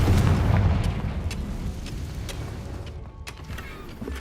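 A Confringo blasting spell explodes in Hogwarts Legacy, a booming burst that opens loud and then fades into a rumbling tail with faint scattered pops, heard alone.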